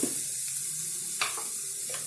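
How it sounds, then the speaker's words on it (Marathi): A spoon stirs turmeric, coriander powder and chaat masala in a pan over low heat, producing a soft sizzle with a few brief scraping strokes, close and quiet. "हळद, धनेपूड, चाट मसाला याला मिक्स करून घ्यायचं आणि हे कधी पण स्लो आचेवरतीच करायचं"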